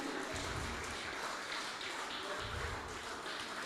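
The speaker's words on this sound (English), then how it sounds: "Let's have a huge round of applause for Amina" Steady applause from an audience at a women's squash tournament final in Mumbai, many hands clapping together in a dense, even patter for a few seconds without pause.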